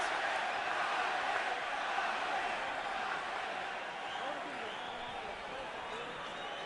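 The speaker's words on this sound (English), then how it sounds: "And now the crowd begins to chant for Pacquiao. And the Mexicans chant, Marquez, Marquez, Marquez." Boxing arena crowd chanting for Pacquiao and Marquez, a broad roaring wash of many voices at a distance that slowly fades, with no clear individual speech.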